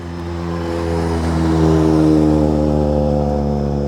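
Colin McRae's Ford Focus WRC rally car pulls away with a loud, close engine that builds to a peak and holds steady, a deep rumbling note with no one talking.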